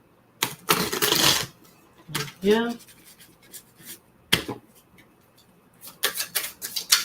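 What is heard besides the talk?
oracle cards being shuffled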